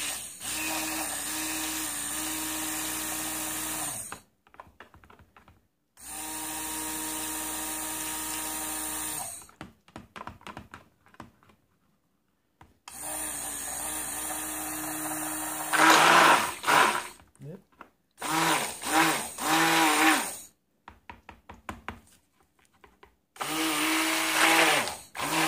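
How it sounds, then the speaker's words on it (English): A stick blender mixes a small batch of strawberries and cream soap in a bowl, whirring in several bursts separated by pauses, with the pitch wavering as it is moved around the bowl. "Still kind of hard to burp the blender though."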